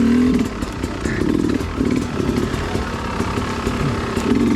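A dirt bike ridden over rocky enduro terrain, its engine revving and bogging in uneven bursts while the chassis clatters over rocks, close and loud throughout.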